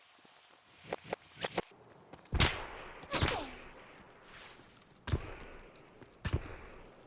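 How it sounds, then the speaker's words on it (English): Scattered gunshots in Escape From Tarkov, a few sharp cracks with pauses between them, some close and loud, others fainter, with quiet rustling and movement in between. "You hear those two shots at the start that are actually pretty close to hitting us"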